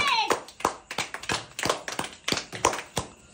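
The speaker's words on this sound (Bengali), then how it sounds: "হাততালি দাও হাততালি দাও।" Hands clap in a quick, irregular run of sharp claps close by during a family money-grab challenge, with voices cheering faintly alongside.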